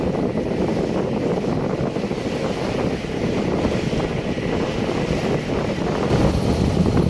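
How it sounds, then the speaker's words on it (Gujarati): Low, steady rumble of a fishing boat engine heard with wind buffeting the microphone, continuous and fairly loud throughout. "એ જાય છે બોટ ફિશિંગ કરવા"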